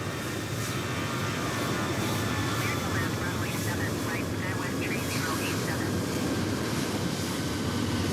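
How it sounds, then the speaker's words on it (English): An older Airbus A321 takes off down runway 8 at Phoenix Sky Harbor in Microsoft Flight Simulator 2020, giving off a steady, broad jet roar that holds evenly throughout. "There goes A321 rocketing down runway 8."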